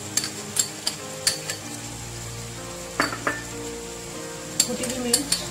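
Chicken pieces frying in a karahi pan for Punjabi chicken karahi, a low steady sizzle broken by sharp clinks and scrapes of a spoon stirring against the metal, with light talk in between.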